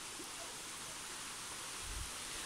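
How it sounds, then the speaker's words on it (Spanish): A river runs along a walking trail in a steady, broadband rushing wash, constant and moderately loud, with a brief low thump near the end and no voices. "Aquí tenéis el río"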